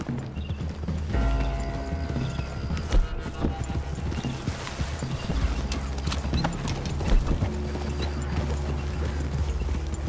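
Horse hooves clip-clop in a steady, rhythmic gait throughout a scene in the Red Dead Redemption 2 Online video game, close and clear, with small mechanical rattles and a brief whinny-like sound.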